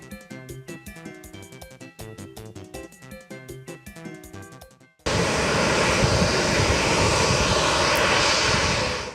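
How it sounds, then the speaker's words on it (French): Colombia's presidential airplane lands at Toussaint Louverture International Airport, a loud steady engine roar filling the second half after music fades out. "à bord avion República Colombia, président colombien Gustavo Petro atterrit dans l'aéroport international Toussaint Louverture"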